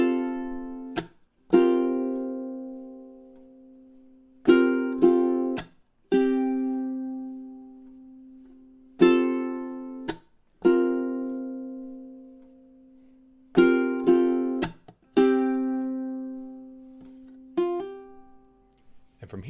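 The full four-measure intro of a song is played on ukulele, with bright strummed chords and hammer-ons repeating in a steady pattern, each ringing clearly and decaying, close and alone.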